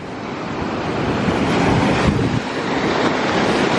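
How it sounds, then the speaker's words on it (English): Surf rolls onto a beach in a steady, loud roar of breaking waves with some wind rumble against the microphone and no voices. "Hanging on the beach now."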